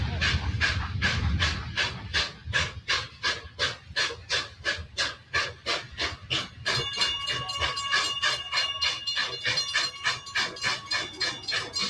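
Union Pacific 844 steam locomotive chuffs in rapid, even exhaust beats that grow steadier and louder, with a rising hiss of steam joining partway through; no one talks.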